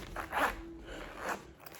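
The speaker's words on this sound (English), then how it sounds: "The zipper" A stuck zipper on a cash envelope wallet is tugged in two short, faint rasping pulls, close by and quiet, with no talk over it.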